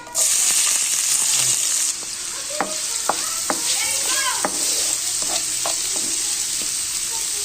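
Sliced onions and a bay leaf frying in hot oil, a loud bright hiss that eases after the first two seconds, then settles into steady sizzling marked by several sharp spatula clinks and stirring scrapes.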